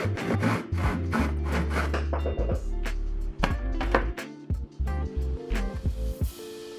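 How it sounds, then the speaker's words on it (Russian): A hand saw cuts cardboard tubes to length on a table, making a run of quick, rhythmic rasping strokes up close, then slower, scattered scraping and knocks. "и потом по этой линии отпилила пилой лишнее"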